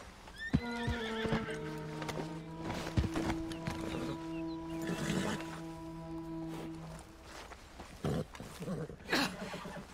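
A horse whinnies loudly in a long, shaky neigh, with hooves clopping and scuffing nearby and some rustling movement around it.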